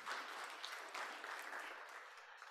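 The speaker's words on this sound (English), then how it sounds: "Let's give him a round of applause." Audience applause at a seminar on valuing ecosystems and nature-based solutions, a steady, dense round of clapping from a room of listeners that holds evenly and then tapers slightly.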